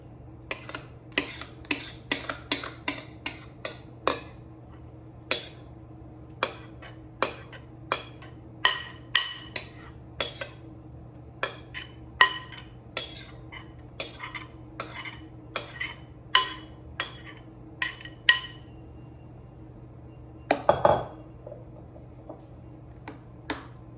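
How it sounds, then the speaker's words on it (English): Almond flour banana bread batter is scraped from a bowl into a loaf pan, giving a run of sharp utensil taps and clinks at an uneven pace, close and crisp over a low steady hum, with a brief louder scrape near the end. "I'm going to transfer it into my loaf pan."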